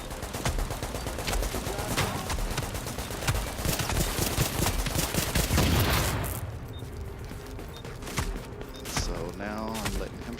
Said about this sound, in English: Now I'm letting him shoot me in the back as I run away